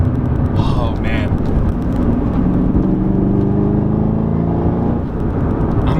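A 2019 Chevrolet Camaro ZL1 1LE V8 engine revs hard while being short shifted, a loud, steady rising drone heard from inside the car, with a brief dip in the roar near the end.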